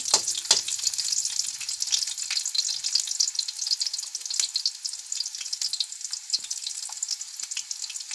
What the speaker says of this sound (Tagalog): Gisa tayo ti ingredients, ricado, sibuyas,